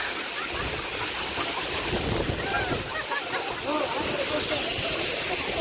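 Durgapadu waterfall in Rayagada rushes in a dense, continuous roar of falling water close by, with indistinct voices buried under the noise.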